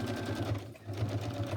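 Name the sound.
sewing machine stitching through fabric and wet glue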